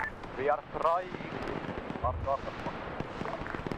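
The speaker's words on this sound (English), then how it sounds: "Now this is just a massive extended firefight" Gunfire crackles through a drawn-out firefight in a military video game, with scattered sharp shots and bursts. Voices talk over the shooting.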